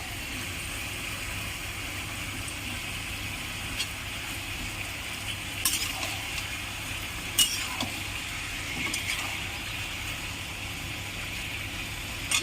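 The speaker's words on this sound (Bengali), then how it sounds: "মাংসটা একটু ভেজে নেব। প্রথমে 5 মিনিট মতন ভেজে নেব" Chicken meat frying in a pan for a village-style chicken curry, a steady, even sizzle with a low background hum, broken by a few soft clicks and scrapes of stirring.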